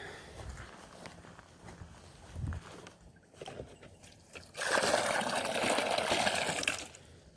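After a few footsteps, water is poured out for backyard chickens as a steady rushing splash of about two seconds, fairly close and moderately loud, with no talking.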